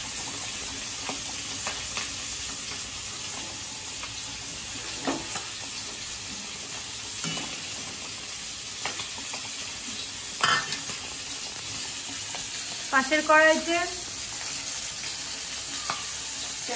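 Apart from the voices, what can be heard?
roe-filled tangra fish frying and spattering in a wok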